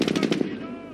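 Rapid bursts of machine gun fire in the World War II strategy game Company of Heroes, a loud rattling volley for about half a second that cuts off and trails into a fading echo.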